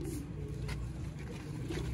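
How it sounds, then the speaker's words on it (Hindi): Domestic pigeons coo softly and continuously at close range, with low rolling calls layered over steady background noise and no voices. "फुल रिजल्ट वाले कबूतर"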